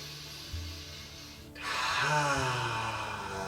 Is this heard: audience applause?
no